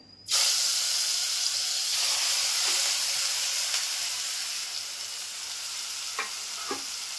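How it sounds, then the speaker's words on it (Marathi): Mackerel and prawns dropped into hot oil for a Malvani-style tempering burst into a loud, steady sizzle and hiss that holds close and continuous for several seconds, with a few faint clinks near the end. "तेल तापलं आहे. आता मच्छी टाकते फोडणीला."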